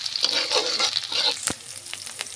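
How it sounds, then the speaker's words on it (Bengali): Chopped onion, garlic and green chilli fry in a pan, a bright, close sizzle punctuated by a few sharp scrapes and knocks of a stirring spoon. "দিয়ে সুন্দর করে পেঁয়াজ রসুন কাঁচা ঝাল ভেজে নেব।"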